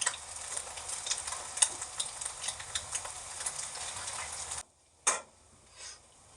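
An egg fries in a pan with steady, close sizzling while it is stirred and scraped, then a brief pause, a sharp scrape and a softer final stir.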